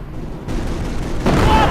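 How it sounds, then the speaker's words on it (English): Small arms gunfire crackles in Company of Heroes during the Normandy invasion at Vierville, a fairly loud run of sharp bursts that thickens and grows louder toward the end of the short stretch. "Taking small arms fire!"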